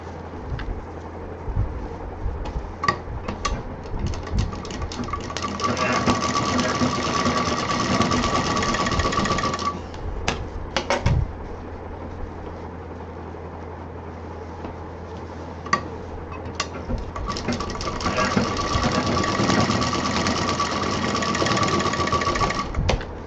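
A sewing machine runs in two steady bursts of rapid, even stitching along the edge of a tote bag pocket, close by, with a quieter pause of handling in between.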